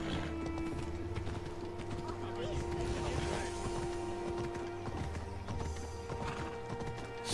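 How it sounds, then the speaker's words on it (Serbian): A horse in the video game Assassin's Creed Odyssey trots with rhythmic clip-clop hoofbeats and neighs, set against steady game music and ambience. "vidi ga zlatni konj, evo te."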